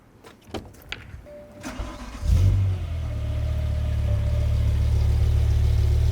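A BMW M5 engine cranks and fires up, a quick rev settling into a steady, deep rumbling idle after some faint clicks and handling noises.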